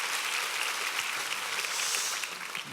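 A church congregation applauds a mixed choir at a summer revival service, a steady, dense wash of clapping that holds evenly throughout without voices.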